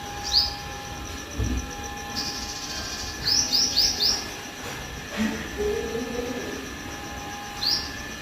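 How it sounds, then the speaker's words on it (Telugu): Many birds chirping in a tree on a morning, short bright tweets coming in small bursts over a low background hum, fairly faint and slightly distant. "చాలా పక్షులు ఉన్నాయి చెట్టు మీద"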